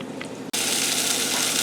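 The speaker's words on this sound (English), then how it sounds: "So we're going to let that start to sizzle." Chicken browning in a pot for stew gives a loud, steady sizzle that bursts in suddenly after a brief, quieter moment and then holds close and continuous.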